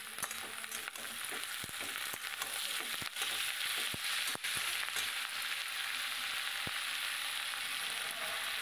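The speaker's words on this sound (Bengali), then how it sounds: "এবার ভালো করে একটু নেড়ে নেব" Amodi fish chachchari, a Bengali fish curry, sizzles steadily in a pan with tomato added, while sharp scraping stirs punctuate the continuous frying hiss.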